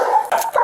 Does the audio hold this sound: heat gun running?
no